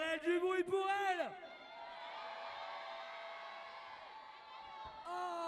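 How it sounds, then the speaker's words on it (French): Women in a crowd at a climbing competition screaming and cheering for a climber, rising shrill whoops at the start that trail off into a sustained roar of crowd noise, with a fresh shout at the end. "Mesdames, et uniquement vous, mesdames, je veux vous entendre hurler derrière elle du bruit pour elle."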